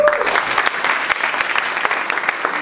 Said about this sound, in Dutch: graag een warm applaus voor Johan